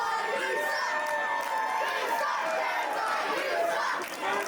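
A wrestling crowd shouts and cheers without pause in a dense, loud roar of many voices that holds at a steady level.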